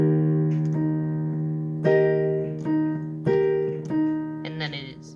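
Piano chords from a song struck one after another, each ringing out and decaying, close and fairly quiet, with faint voice sounds between the notes.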